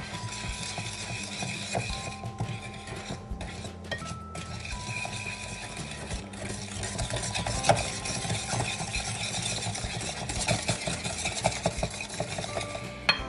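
Cookie dough being mixed with powdered sugar in a bowl, a steady scraping and stirring texture under a low hum, with occasional soft clinks of the utensil throughout.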